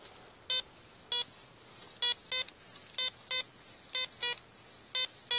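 A metal detector on a farm field emits a series of short, high, buzzy beeps at irregular intervals, some in quick pairs, signaling a coin-sized target, over faint background hiss.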